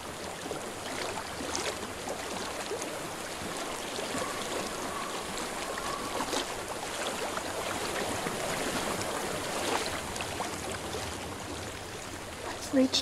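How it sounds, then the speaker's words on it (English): Flowing water in Hellblade: Senua's Sacrifice makes a steady rushing wash that lasts the whole stretch at low, even loudness, with soft voices faintly beneath it. "I hear water."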